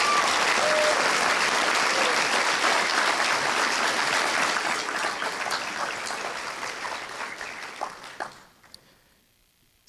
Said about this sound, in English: can we take a brief moment just to applaud and celebrate our phenomenal